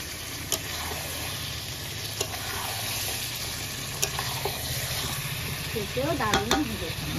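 Chicken leg pieces sauté in a pan with a soft, continuous sizzle and occasional stirring scrapes, heard close up at low volume with brief voices near the end.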